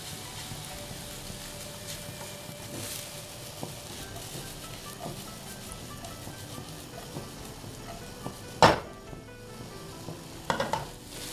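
Bitter melon and egg mixture sizzles in a pan while being stirred, a steady frying hiss with a few sharp utensil scrapes and clinks near the end.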